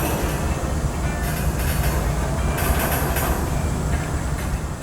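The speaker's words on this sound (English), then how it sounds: "That hissing sound that you are hearing from these train cars is the air brakes." Air brakes hiss on freight train cars in a rail yard, a steady broad rushing noise that stays loud and close throughout, with a few brief brighter bursts and no talking.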